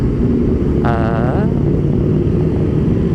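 Aprilia RS660 motorcycle riding in dynamic mode, a steady loud engine and wind roar throughout, with a brief rising whine as revs climb for a moment.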